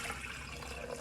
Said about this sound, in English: Going to go ahead and pour some of solution B in.